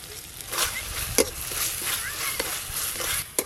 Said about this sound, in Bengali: এবার কিন্তু গুঁড়ো মশলা আর সব কিছু একসঙ্গে ভালো করে কষে নেব